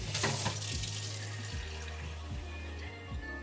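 Water pours steadily into a pot, a close rushing splash that holds throughout, while a low motor-like hum pulses underneath.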